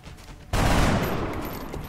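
Gunfire in XCOM Enemy Within, Long War mod: quiet at first, then a sudden loud burst of shots that stays heavy and sustained to the end.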